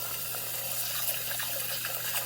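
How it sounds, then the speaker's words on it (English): Cold tap water runs steadily over rice in a medium saucepan, a constant close hiss with light splashing and a low background hum. "Start by pouring your rice into a medium saucepan and running cold water over"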